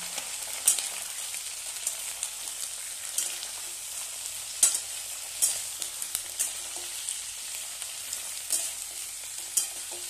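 Onions, both chopped bulbs and green onion stalks, fry in a pan with a continuous bright sizzle and frequent crackling pops, alone and fairly close.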